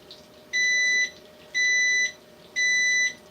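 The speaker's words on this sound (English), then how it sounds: "It's just my air fryer making noise" An air fryer beeping three times, each a steady high electronic tone lasting about half a second, evenly spaced one second apart over a quiet kitchen background.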